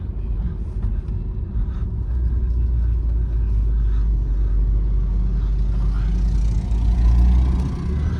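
A BMW car accelerating on the road with the engine rumbling low and steady, rising gradually in intensity as it pulls through a gear change, close and loud from inside the cabin.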